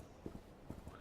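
A horse's hooves in a survival video game, a few soft clip-clop beats in quick pairs, faint and brief.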